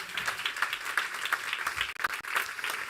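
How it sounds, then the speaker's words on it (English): An audience applauds at a live talk event, a dense, steady wash of many hands clapping close and loud throughout, with no speech over it. "This is your round of applause"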